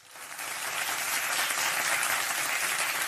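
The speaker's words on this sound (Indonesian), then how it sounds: "Kalau begitu kita beri tepuk tangan yang meriah untuk para peserta." Applause swells up from near silence for competition participants at a young entrepreneurs grand final, becoming a broad, steady wash of clapping from a large hall audience that holds to the end.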